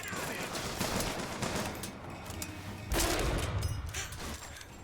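Rifle gunfire during combat in the BioShock Infinite video game: rapid, fairly faint volleys of shots crackle over a busy background, with a sharper burst near the middle.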